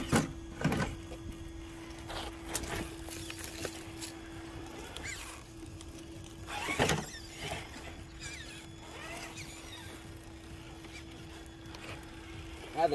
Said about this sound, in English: That Holmes hobby motor in it.